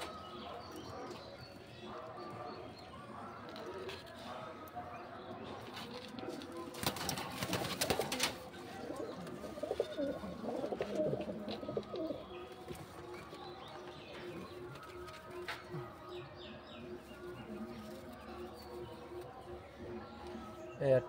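Pigeons coo softly in a loft, low murmuring calls near and far, with a burst of wing flapping partway through and a person talking quietly in the background.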